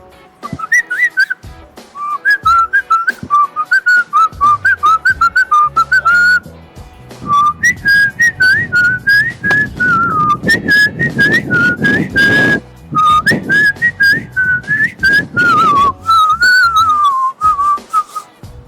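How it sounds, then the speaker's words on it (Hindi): A young man whistles a tune at a freshers' introduction, a clear, loud melody in short phrases with brief pauses, backed by some rustling and muffled noise midway. "सीटियां मार सकता हूँ मैं अभी।"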